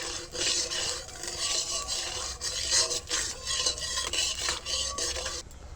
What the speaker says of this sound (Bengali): ফোড়নটা একটু ভেজে নেব।